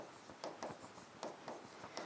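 A pen writing by hand on paper during a biology lesson, a faint close series of short scratchy strokes in an uneven rhythm.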